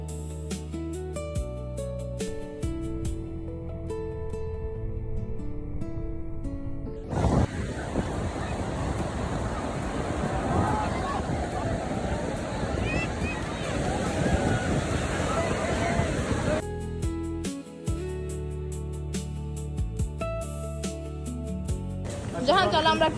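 Sea waves wash onto a beach at Cox's Bazar, Bangladesh, a steady broadband surf roar with wind buffeting the microphone. It fills the middle stretch, framed before and after by tonal background music.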